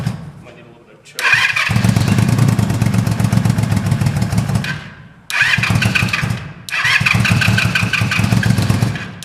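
A Yamaha G1 golf cart engine, apparently running without mufflers, fires up with a loud buzzy idle, cuts out briefly, then restarts and keeps running. Voices can be heard faintly alongside it.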